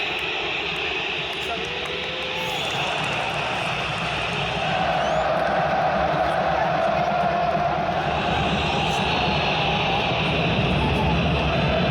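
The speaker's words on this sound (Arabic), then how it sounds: "الدقيقة 50 جمهور مولع الدنيا مولع الدنيا" A packed football stadium crowd roars loudly and continuously at the 2025 Africa Cup of Nations during a Cameroon match, a dense wall of cheering that swells slightly partway through without a break.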